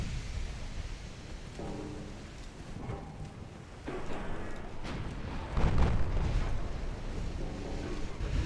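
Warship main battery guns fire in a naval video game, a series of rumbling booms over a steady dull background roar, the heaviest blast landing past the midpoint.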